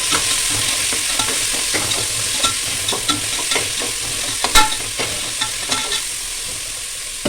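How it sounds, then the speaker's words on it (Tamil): Tomato, onion and chili being stirred as they fry in hot oil in a cooker, a steady loud sizzle broken by frequent scraping strokes of the spoon, with no talk. "நறுக்கி வச்சுட்ட தக்காளி, பல்லாரி, மிளகாய் இதை போட்டு நல்லா கிளறி கொடுத்துக்கிடுவோம்"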